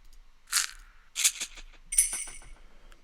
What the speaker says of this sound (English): shakers,